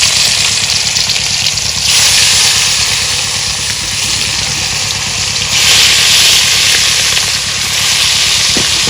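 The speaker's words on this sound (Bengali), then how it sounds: "তো এখানে তেলটা গরম হচ্ছে এখন মাছ দিয়ে দিই" Fish fries in hot oil in a village home kitchen, making a loud, steady, close sizzle and hiss that keeps going throughout, swelling slightly at moments, with no voices over it.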